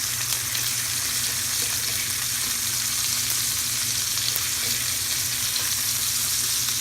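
Steak sizzles steadily in a hot cast iron pan, a dense, even frying hiss that holds at the same loudness throughout with no voices over it.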